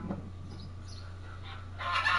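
A goose gives a short, nasal honk at close range, a single harsh call rising at the end over a low steady hum.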